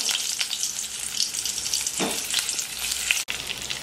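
Stuffed eggplants frying in oil with mustard seeds, cumin, asafoetida and spice masala, a bright continuous sizzle with occasional stirring clinks, close up.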